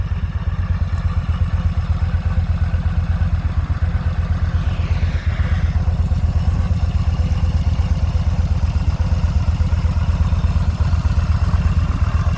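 A 2014 Yamaha Midnight Star 950 motorcycle engine idles close by with a rapid, even, lumpy thump that stays steady throughout, with a faint mechanical clatter over it.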